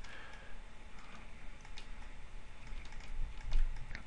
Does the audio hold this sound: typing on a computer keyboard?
yes